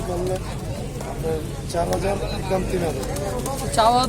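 A pair of blue shirty pigeons at the Tongi pigeon market give soft, low coos throughout, mixed with close, steady talk from people nearby and general market noise.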